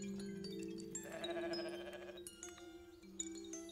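Goat bleating in the video game The Stillness of the Wind, a wavering animal cry over steady background game music and tones, heard alone without talk.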